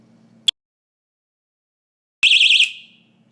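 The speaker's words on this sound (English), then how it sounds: "when I pull on it, it's going to set off the alarm." A Vigilant PPS-17 130dB personal alarm gives a brief click, then a piercing warbling shriek for about half a second before cutting off. Quiet surrounds it and no one speaks.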